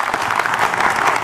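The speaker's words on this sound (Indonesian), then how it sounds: "Boleh tepuk tangan dulu yuk." Studio audience at a religious talk show bursts into brief, loud applause, a dense wash of many hands clapping evenly and close for about a second, with no voices over it.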